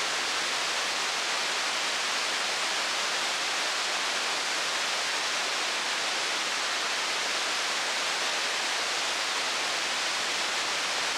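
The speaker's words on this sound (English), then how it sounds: "Probably one of the most spectacular waterfalls in Scotland." A large waterfall in the Scottish mountains roars as a steady, dense wash of broadband rushing noise, loud and unbroken throughout with no voices or other sounds.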